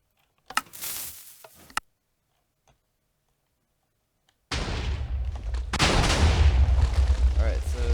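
Cannon built from a 20-block stacker contraption in a video game fires, a few sharp clicks and pops followed by a sudden loud blast that turns into a sustained roaring, crackling rush of breaking blocks.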